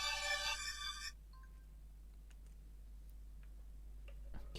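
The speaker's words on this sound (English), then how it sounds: "Please don't mind my phone blipping in the background there." A phone in the background gives a bright, harmonic electronic blip lasting about a second, followed by faint scattered ticks over a steady low hum.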